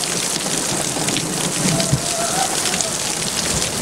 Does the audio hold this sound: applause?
no